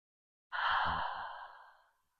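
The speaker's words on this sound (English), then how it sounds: "Nice deep breath here." A slow, deep exhale during a prenatal yoga session, one long breath rising and fading over about a second and a half, close and soft with no talking.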